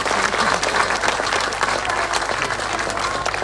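Crowd applause for girl dancers at a GAA pitch opening event, sustained dense clapping from an audience with a few voices mixed in.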